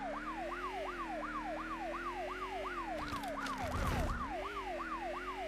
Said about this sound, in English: we're turning the siren off because it's actually annoying